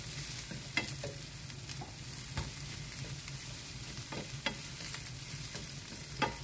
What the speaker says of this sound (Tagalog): gisa muna tayo ng garlic at sibuyas at may luya